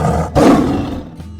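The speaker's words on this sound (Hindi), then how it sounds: "आओ बच्चों, मिलो हमारे राष्ट्रीय पशु से, बाघ।" A cartoon tiger roars at a zoo, one loud, broad roar that swells after a brief pause and then trails off, with no talk over it.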